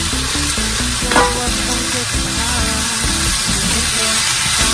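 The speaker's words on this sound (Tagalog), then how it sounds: "Isunod ang kamatis. Haluin." Tomatoes stirred in a sizzling pan while cooking Bicol Express, a steady frying hiss with scraping spoon strokes throughout, close and fairly loud with no talk.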